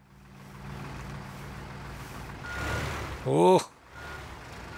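A vehicle in the video game Teardown reverses amid engine rumble, with a short burst of rising tonal beeps near the end. A person briefly speaks.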